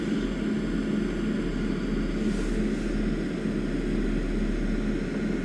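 A heavy airliner taking off in a flight simulator game, bound from Heathrow to Baltimore: steady broadband jet engine roar with a low rumble, continuous and loud throughout, no talking.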